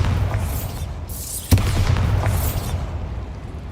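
A Bombarda blast spell in Hogwarts Legacy fires inside a small mine, a sharp near explosion that booms and rumbles briefly over continuous low game ambience, with swooshing magical effects before and after.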